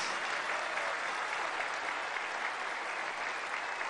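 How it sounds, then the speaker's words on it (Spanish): Crowd applause at a Labor Day rally at the Dos Bocas Olmeca refinery in Paraíso, Tabasco: sustained, even clapping from a large outdoor audience, heard at a moderate distance and unbroken throughout. "Un aplauso a nuestros paisanos, a los trabajadores migrantes."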